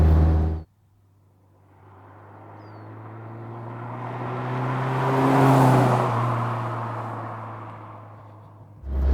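A 1999 Lotus Elise Sport 160 on its original exhaust approaches and passes by, the engine note building steadily to a loud peak and then fading, with no one talking.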